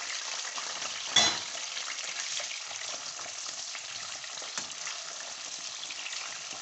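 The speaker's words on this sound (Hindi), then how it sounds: "तो सबसे पहले हम जो है ना ये सब्जियां फ्राई करेंगे" Potatoes and cauliflower frying in ghee for a dhaba-style aloo gobi make a soft, even sizzle, broken by one sharp clatter early on and a fainter knock later, with no voices.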